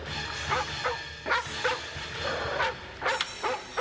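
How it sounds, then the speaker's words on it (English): A dog barks and yips in several bursts with short whimpering gaps, fairly close and loud, within a comedy episode. "He's an old man teasing a dog?"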